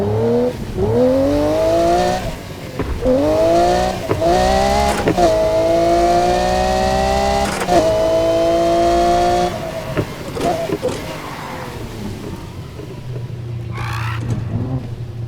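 Car engine in the racing video game Need for Speed Heat, revving up through repeated gear shifts with rising pitch, loud and continuous, then dropping to a low idle hum near the end.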